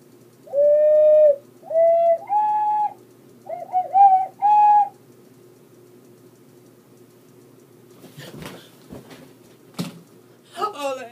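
An ocarina plays five short, pure notes stepping upward, followed by quiet and then a few scattered clicks and rustling noises.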